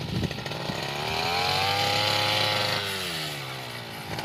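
A small petrol engine on a back-carried farm tool, used in place of a hoe, runs just after being pull-started. It gives a loud, buzzy, chainsaw-like drone that swells in revs and then settles back.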